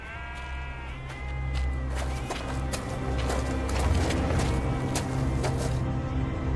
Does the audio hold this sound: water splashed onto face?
no